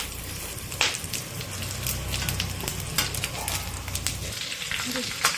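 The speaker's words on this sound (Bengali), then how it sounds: "এই দেখুন এটা হচ্ছে 5 ফোড়ন, এটার মধ্যে দিয়ে দেবো, মধ্যে দিয়ে দিচ্ছি।" Panch phoron spices sizzle and crackle in hot fish oil, a dense frying hiss with scattered sharp pops and a few spoon clinks, fairly close.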